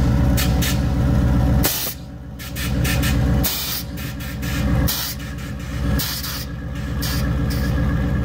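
Air suspension valves on a bagged GMC Denali truck on 28-inch wheels with a three-link wishbone setup hiss loudly in repeated bursts of released air, several long blasts separated by brief pauses, close and alone.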